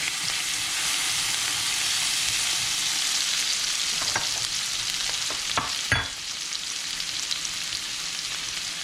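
Tomato and hot scotch bonnet pepper frying in a pan for ackee and saltfish, a loud continuous close sizzle with brief scraping stirs partway through.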